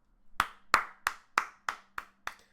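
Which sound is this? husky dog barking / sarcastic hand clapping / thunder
sarcastic hand clapping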